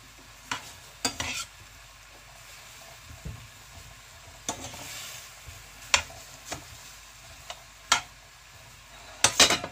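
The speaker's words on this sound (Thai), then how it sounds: "เราก็ทำการผัดนะคะ" Stir-frying fajita filling with squid in a pan, a steady low sizzle broken by sharp scrapes and clinks of a utensil against the pan at irregular intervals, close and without talk.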